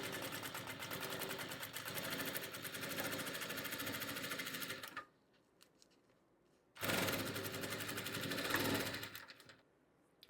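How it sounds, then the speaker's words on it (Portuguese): Sewing machine stitching a seam joining nylon to laminated fabric lining, running in a steady buzzing burst of about five seconds, pausing, then a second shorter run; close and loud, with no talking. "vou passar uma costurinha"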